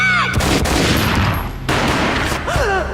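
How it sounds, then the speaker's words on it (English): Gunfire in the video game Max Payne cracks loudly in a rapid burst of shots, with a pause and a second burst, backed by whooshing slow-motion tones. "A gunshot boomed and she fell down in slow motion."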